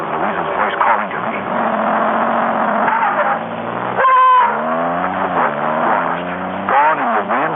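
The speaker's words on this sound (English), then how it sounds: "Gone in the wind and the roar of the engine." A car engine roars as a radio drama sound effect, a loud continuous rumble with rising and falling pitch sweeps that swell and fade over several seconds, played alone without talk.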